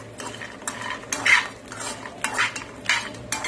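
Chopped pistachios and dry fruits are stirred in ghee in a pan while roasting for dinkache modak, giving repeated scraping strokes of a spoon against the metal over a faint low sizzle.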